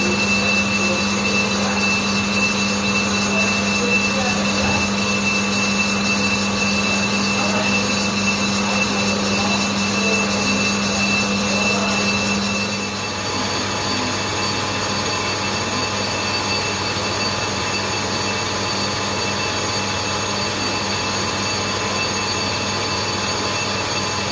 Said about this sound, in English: Having switched back to the tool with the aluminium tip in, we cleaned up the outer face